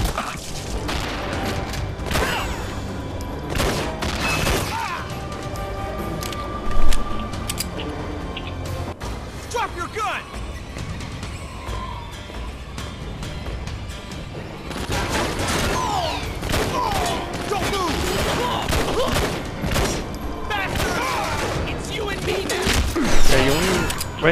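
Gunshots in the Wii shooter Red Steel ring out in scattered bursts over busy game music and effects, with a voice talking intermittently beneath the action.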